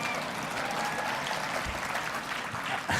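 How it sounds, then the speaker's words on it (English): An audience claps at an Islamic lecture, a steady spread of applause that carries on for the whole moment. "That's where you get excited, you clap and stuff like that."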